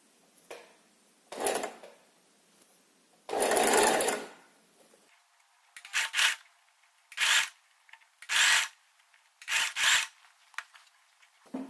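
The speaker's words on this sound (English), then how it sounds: "And you have to sew until this part where the seam is joined already." A sewing machine stitches an invisible zipper into fabric in a series of short separate bursts of rapid mechanical whirring, loud and close, with quiet pauses between runs.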